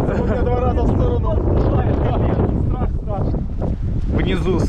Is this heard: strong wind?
yes